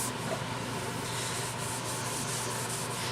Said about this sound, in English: so I'm going to stick some mineral oil on it.